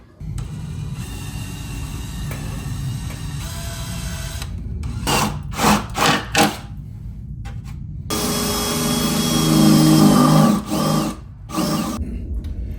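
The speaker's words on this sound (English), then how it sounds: "then we'll just drill out these holes that I just marked" A power drill whirs in several short bursts, then a longer stretch of drilling with grinding through material, close and loud, while drilling holes for a Ford Bronco tailgate table.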